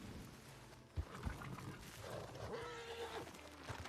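A horse neighs once in a tonal whinny near the end. It comes after a couple of low thumps, with background noise throughout.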